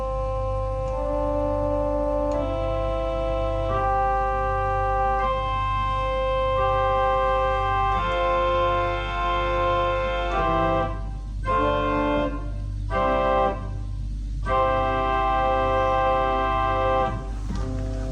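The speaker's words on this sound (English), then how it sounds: "on its own, the Celeste sounds like this." Eight-foot Celeste stop on a pipe organ, playing sustained chords alone with a slowly shifting harmony and a steady low bass under the whole passage.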